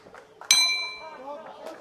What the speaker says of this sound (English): the bell going to ring any time